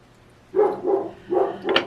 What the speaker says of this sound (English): excuse the occasional dog bark